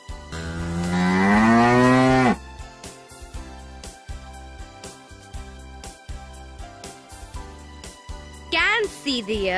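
A cow moos once, long, loud and close for about two seconds, then gives way to upbeat music with rhythmic beats.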